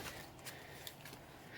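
A deck of trading cards for a Commander game shuffled, a brief soft riffle of several quick papery flicks, close and quiet.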